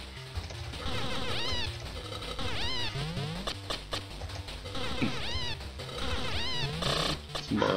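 Cartoonish cat meows in a video game, a string of rising and falling pitched cries over busy music and effects, loud and close throughout.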